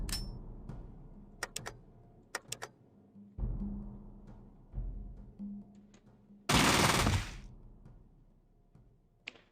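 Short bursts of automatic gunfire from burst-mode weapons in Fallout, several sharp cracking volleys spread across the stretch with gaps between, one long loud rushing blast near the end, no talk.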